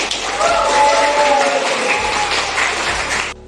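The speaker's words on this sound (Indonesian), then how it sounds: "Bagus sekali, beri tepuk tangan pada temannya." A class of schoolchildren applauds a classmate, a dense burst of close clapping lasting about three seconds before stopping abruptly.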